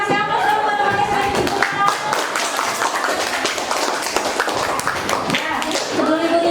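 Students clap in a classroom for a classmate, sustained brisk applause from a small group that carries on steadily throughout, with some voices and chatter mixed in.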